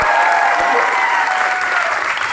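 Dense, steady applause from an audience at a Vestige team gathering, sustained and fairly loud across the whole moment with no voices breaking through.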